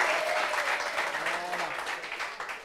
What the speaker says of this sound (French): Applaudissements pour nous les guerriers.